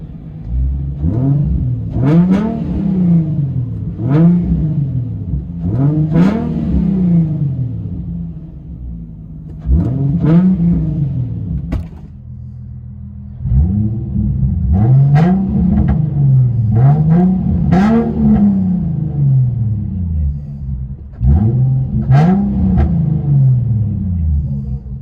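A Nissan 350Z with a 3.5L V6 and straight pipes revs repeatedly, loud close blips rising and falling in quick bursts, with brief pauses between pulls and a rumbling idle beneath.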